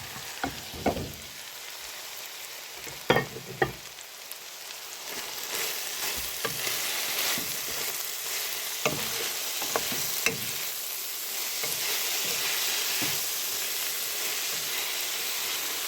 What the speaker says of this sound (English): At this point, I'm just gonna go ahead and throw in these vegetables.